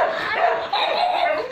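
A puppy yips and barks in quick, high, excited bursts close by, with whimpery edges, outdoors at a home in Santa Maria, Bulacan.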